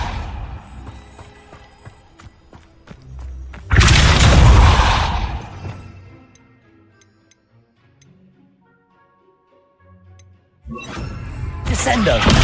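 A Depulso spell goes off in Hogwarts Legacy as a sudden loud burst of noise. It follows a stretch of faint ticking and then fades into quiet before another burst arrives. A voice is heard earlier in the scene.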